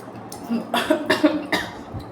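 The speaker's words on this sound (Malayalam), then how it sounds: "ചുമയാണ്" A person coughs several times in a quick, close burst, harsh and throaty, then falls quiet.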